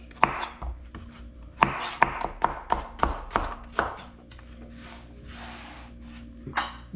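A knife chopping yellow squash on a cutting board, a quick series of crisp taps in an uneven rhythm, close, followed by a few softer scraping sweeps.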